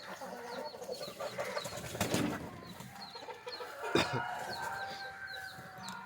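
A hen and her chick cluck and peep in scattered short calls outdoors, moderately faint, with a couple of sharper knocks in between.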